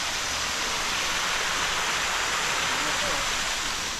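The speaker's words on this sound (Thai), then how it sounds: "น้ำไหลครับ" Water rushes steadily in a dense, even hiss, like a fast stream close by, with no break throughout.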